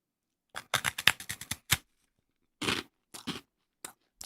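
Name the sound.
biting and crunching a rice cracker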